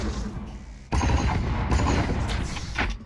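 A gun shooting in the VR video game Space Junkies, a loud blast of booming shots and a rumbling, sustained burst that begins abruptly after a quieter moment.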